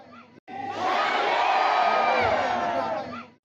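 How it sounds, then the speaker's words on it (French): A joyful crowd roars and cheers during a reenacted medieval royal visit by King Saint Louis to the town of Charlieu, a dense swelling clamor of many voices with shouts and whoops, sustained for about three seconds before fading. "Une clameur s'élève de la foule en liesse."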